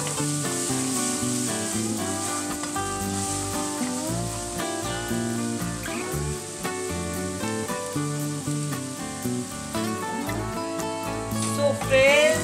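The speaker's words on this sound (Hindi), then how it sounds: "अब हम डाल रहे हैं कटे हुए प्याज, तो थोड़ा सा भूनना है अच्छे से." Chopped onions fry in a pan for a tomato chicken curry, a continuous hiss of sizzling running steadily beneath louder background music throughout.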